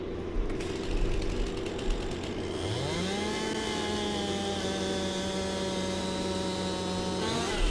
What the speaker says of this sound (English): I'm just going to cut those trees down